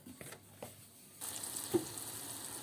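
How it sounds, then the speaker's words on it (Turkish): Oil sizzles in a small pan as floured peas are dropped in, a soft steady frying hiss that grows louder after a few quiet clinks. "kızartmaya başladım. Küçük bir tavada"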